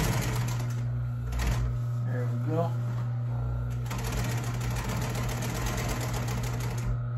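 An upholstery cover is stitched on a sewing machine: a close, steady mechanical hum with a rapid stitching rattle, pausing briefly in the middle before running on, while a person talks over it.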